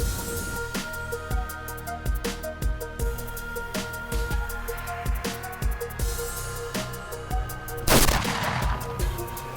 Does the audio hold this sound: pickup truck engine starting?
no